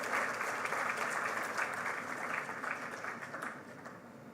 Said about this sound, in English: Please give a huge round of applause to our chief guest and orator, Professor Clara Chow.